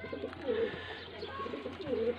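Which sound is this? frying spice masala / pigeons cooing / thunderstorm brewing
pigeons cooing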